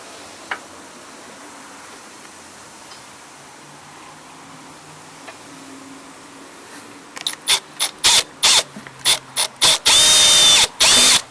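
Parts being screwed onto an Ariens Sno-tek 136cc 20-inch two-stage snow blower: after a quiet stretch, a run of sharp ratcheting clicks and short bursts, ending in a sustained loud whir, close up with no talking.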